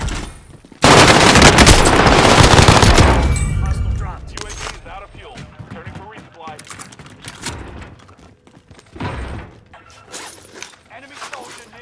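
Heavy automatic gunfire in Call of Duty: Modern Warfare, a loud sustained burst of rapid shots at the start that then gives way to scattered distant shots and game ambience, with players talking over it.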